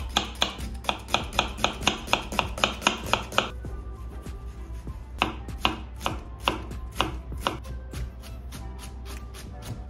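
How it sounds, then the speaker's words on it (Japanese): A knife finely chopping onion on a cutting board, fast regular knocks for several seconds, a short pause, then slower, sparser chops, close and clear with no talking. "続いて玉ねぎ、玉ねぎもみじん切りにしていきます"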